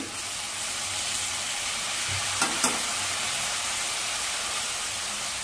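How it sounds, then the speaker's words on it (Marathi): Rice is stirred and sautéed in ghee with garam masala over medium heat for coconut rice, giving a steady soft sizzle with a couple of brief scraping clinks near the middle. "गॅस मध्यम ठेवायचा आणि तांदूळ चांगले परतवून घ्यायचे."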